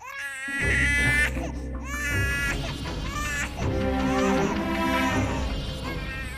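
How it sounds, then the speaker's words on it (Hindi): A baby wails loudly and continuously, rising and falling in long sobbing cries with brief catches of breath, close by. "बच्चे के रोने की आवाज तो आ रही थी ना।"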